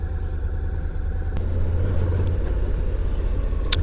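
A 700ND motorcycle riding at night gives a steady, unbroken engine drone with deep low rumble and wind noise, holding an even loudness throughout without any talking.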